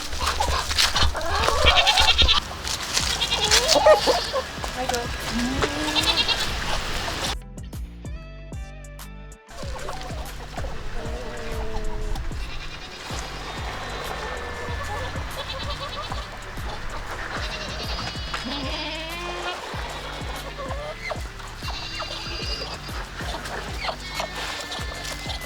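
Goats bleat repeatedly on a homestead farm, loud and close at first, then quieter calls continue over steady outdoor background noise with occasional handling sounds.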